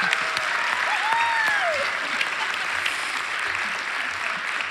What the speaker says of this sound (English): Shout, clap, scream, do whatever you want to do, but let's just give God some round of applause